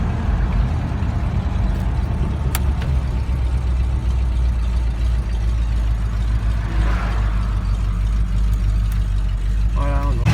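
A 1988 Jeep Grand Wagoneer's eight-cylinder engine runs with a steady, deep rumble close by, while someone talks over it throughout.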